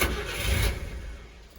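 A Subaru Sambar kei truck with a carbureted EN07 engine cranking and catching, a short engine start heard close up and fading to a lower running sound, with no talk.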